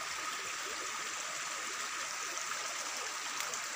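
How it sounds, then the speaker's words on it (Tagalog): A small stream flows steadily over rocks outdoors, a constant, even broadband rush of water with light trickling texture and no speech. "Ayan, ayan yung sapa."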